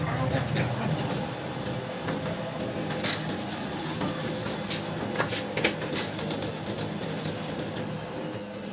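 A Brother MFC-7360 laser printer runs a page, giving a steady mechanical whir with small clicks and ticks throughout. The machine sounds close and continuous, with a few sharper clatters partway through.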